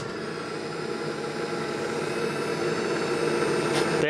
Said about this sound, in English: Bearings in that fan don't sound too good.